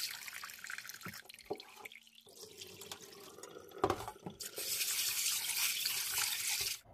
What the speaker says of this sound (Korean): 그럼 먼저 팥을 한번 씻어 보겠습니다.